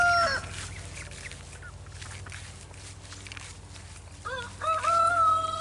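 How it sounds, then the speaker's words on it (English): A farmyard guard rooster crows loud and close near the end, after a few seconds of quieter outdoor background with faint distant bird calls. "I am just being followed by a rooster."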